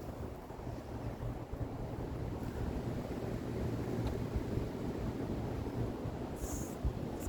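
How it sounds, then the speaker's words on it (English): Low rumbling wind buffets the microphone outdoors on a freezing day, a steady dull roar with no voices. "it's kind of windy, so let's see if this works"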